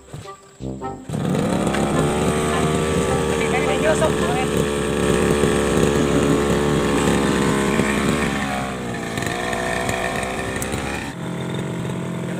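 A grass cutter's small engine sputters briefly, catches and then runs at a loud, steady roar for the rest of the stretch, its pitch dipping slightly near the end, while people talk over it.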